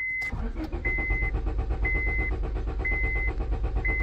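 A Honda Civic engine cranks repeatedly without firing, the starter motor churning in a steady rhythmic whir with a warning chime beeping at regular intervals, close and loud throughout.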